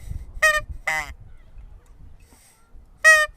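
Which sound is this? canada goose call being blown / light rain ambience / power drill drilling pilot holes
canada goose call being blown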